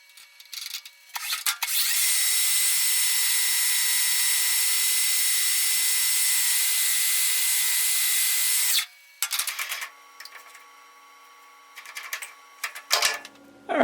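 A Precision Matthews metal lathe turns a shaft while the cutter cleans it up. A loud, steady hiss of cutting holds for about seven seconds, then breaks into scattered shorter scrapes and clicks.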